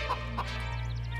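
Rooster clucking from a Bhojpuri film scene, a couple of short nearby clucks over a steady low hum and background drone, with no speech.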